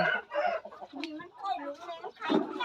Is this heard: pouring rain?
no